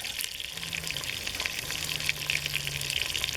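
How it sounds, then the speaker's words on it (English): Two sliced onions frying in a pan for a curry, a steady close hiss and sizzle running without pause, with faint low clinks underneath. "And then we add 2 onions, sliced onions. And we try to brown that."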